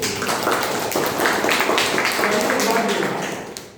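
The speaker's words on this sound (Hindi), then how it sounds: "जबरदस्त तालियां" An audience claps at a Hindi-language talk, a dense, continuous patter of hands that holds steady for several seconds before tapering off.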